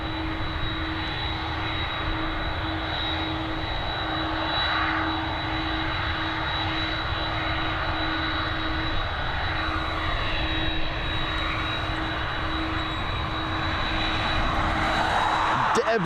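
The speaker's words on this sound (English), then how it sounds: "This one heading over to Munich, this Airbus A320." Lufthansa Airbus A320 jet departing Dublin Airport for Munich, a steady loud engine roar sustained throughout with a constant whine, heard from nearby outdoors with no talking.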